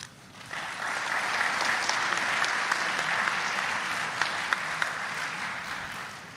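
An audience at a Yom Kippur symposium breaks into applause for the speakers, a dense, even wash of clapping that rises quickly, holds steady, then fades.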